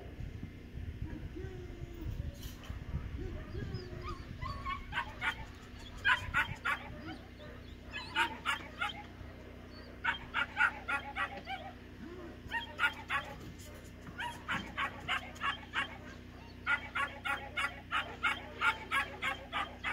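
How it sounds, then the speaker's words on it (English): Two 10-week-old black German Shepherd puppies give repeated high yips and whimpers in bursts, fairly close, with some background speech and low rumble underneath. "So we've got a couple 10-week-old puppies right now."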